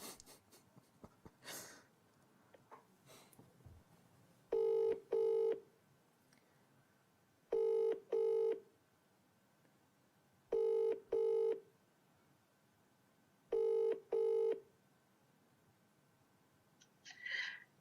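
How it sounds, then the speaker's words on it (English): A telephone keypad sends dialing tones while calling a care home: four evenly spaced pairs of loud, crisp beeps, close and clear over faint background rustling. "I'm gonna phone a different care home."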